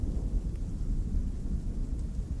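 Thunder rumbles low and close with rain falling steadily, a dense storm sound effect with no voices over it.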